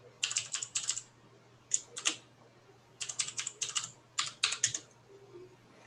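Computer keyboard keys are typed in short bursts of quick clicks separated by brief pauses, close and fairly quiet, while entering an SSH command to a Raspberry Pi.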